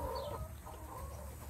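Several laying hens cluck steadily and closely, a continuous low farmyard chatter with no one speaking over it.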